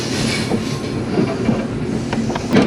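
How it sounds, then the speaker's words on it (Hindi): The Bulleh Shah passenger train arrives at Raiwind Junction railway station, a loud continuous rumble of rolling railcars with faint wheel clatter and squeal, close and steady throughout. "258 डाउन बुल्ले शाह पैसेंजर पहुंच रही है"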